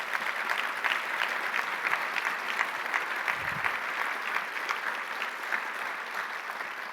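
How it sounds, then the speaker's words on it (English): Audience applause at a conference plenary session for Engineers Without Borders members, dense sustained clapping from a sizable crowd, fairly close and even throughout. "a big applause for them"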